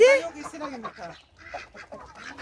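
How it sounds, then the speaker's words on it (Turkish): An unusual-looking hen on a farm gives a few squawking, warbling clucks up close, with other faint fowl calls and some talk in the background. "Bu ne kadar değişik bir tavuk ya."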